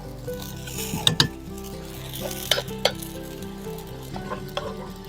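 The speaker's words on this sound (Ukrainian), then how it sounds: "Зараз помішаємо." Steady sizzling of a roux frying in a pan for Ukrainian cabbage soup, with a utensil stirring and scraping and a few sharp metallic clinks against the pot.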